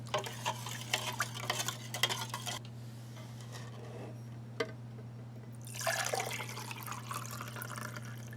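A spoon stirs water into a Swedish military ration drink mix, around 2002, in a cup. Soft scraping and sloshing comes in bursts with a quieter pause and a single clink, then stirring resumes over a low steady hum.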